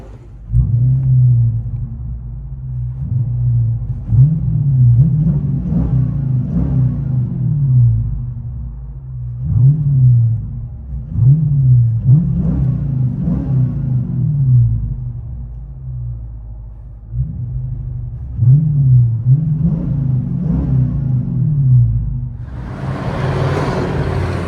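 A 2021 Chrysler 300 S with the 5.7L HEMI V8 and Carven R-Series exhaust, heard from inside the cabin: a deep, steady low rumble with repeated revving swells, and a brief hiss near the end.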